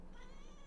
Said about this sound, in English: That's my cat, if you hear him in the background.